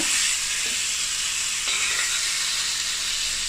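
Prawns cooking in coconut oil for a Kerala idiyappam prawn biryani, turned over in the pan, with a loud, steady close sizzle and hiss throughout and a few faint scrapes of the spatula.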